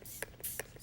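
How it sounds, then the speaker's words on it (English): Green spray paint hisses onto a covered sock in short, quiet bursts, a few faint sprays with brief pauses between them. "And you're going to simply spray on this covered surface."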